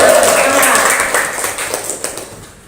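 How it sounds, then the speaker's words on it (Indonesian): A classroom of students applauds a classmate: a dense wash of clapping hands that starts full and thins out toward the end, with voices mixed in. "Tepuk tangan untuk kawannya dulu."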